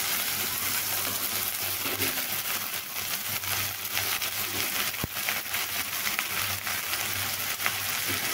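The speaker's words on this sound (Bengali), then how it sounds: "এইভাবে এগুলো একটু ভাজা হতেই এখানে কেটে রাখা ঢেঁড়সগুলোকে এখন আমি দিয়ে নিচ্ছি।" Cut okra frying in a hot pan of oil, a steady dense sizzle and crackle running throughout with a few brief stirring clicks, close and alone without talk.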